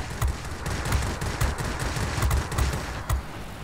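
Rapid gunfire from World of Warplanes rattles in dense bursts of close, sharp shots, firing almost continuously at a moderate level.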